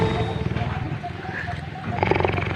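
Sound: tiger breathing

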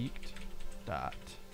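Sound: typing on a cheap mechanical keyboard

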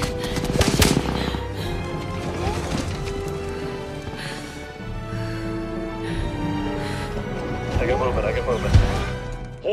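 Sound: bomb run explosions and gunfire in Avatar film battle

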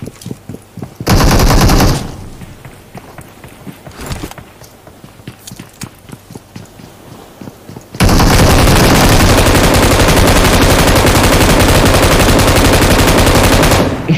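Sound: gunfire in a video game

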